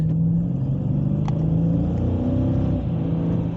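Dodge 392 V8 engine revving, a loud deep rumble close by that holds steady with slight rises in pitch as the throttle is blipped.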